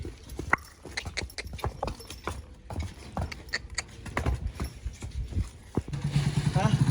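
A Kathiyawadi mare walks with steady clip-clopping hooves close by, the hoofbeats continuing throughout with engine rumble entering toward the end.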